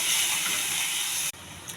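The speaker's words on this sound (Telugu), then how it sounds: "కొద్దిగా అల్లం వెల్లుల్లి పేస్ట్ అండి, బాగా వేగాలండి" Ginger garlic paste sizzles in a hot pan, a steady close hiss that cuts off abruptly near the end, leaving a quieter sputter.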